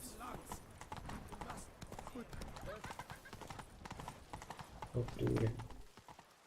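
Roach the horse gallops in The Witcher 3, its hooves a steady rapid clip-clop close up, with a whinny near the end. Someone talks over the hoofbeats.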